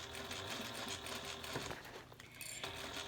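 A sewing machine runs steadily, stitching seams across a rubber piece in a crosshair pattern; a dense, continuous mechanical whir with a brief dip and pause near the end.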